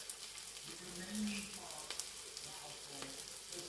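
An omelette with tomatoes fries in a pan, giving a steady, faint hiss and crackle with small pops. A few soft kitchen noises come through, and no one speaks.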